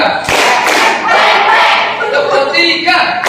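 Schoolchildren at a junior high character-building session clap in unison on cue, loud close claps with thumps over an echoing room, mixed with voices.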